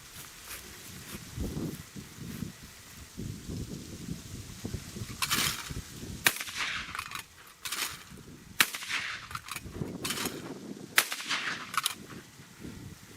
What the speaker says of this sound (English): Fun gun to shoot, not a bad gun to carry either.